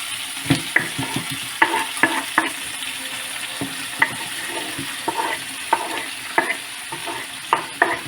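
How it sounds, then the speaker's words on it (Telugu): Onions and tomato fry in a pot for chicken pulao, a soft steady sizzle broken by repeated scraping clicks of a spoon stirring through the mixture, close and without talk. "ఇవన్నీ మంచిగా బ్రౌనిష్గా వచ్చేంత వరకు ఇలా బాయిల్ చేసేయాలి డేక్షాలో"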